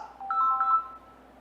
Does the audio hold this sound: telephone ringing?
yes